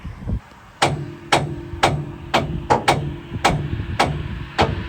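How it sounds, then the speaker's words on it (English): Sharp metallic strikes from a ball peen hammer, about nine blows in a steady uneven rhythm, loud and close, each hit ringing briefly; the work is on parts from a huge 38.8 litre V12 engine. "the Neanderthal was hard at work with the ball peen hammer"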